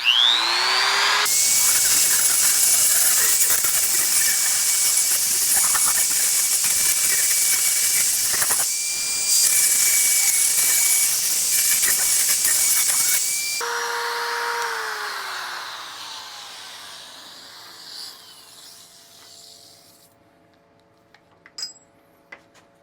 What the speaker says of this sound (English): I'm going to use my little rotary tool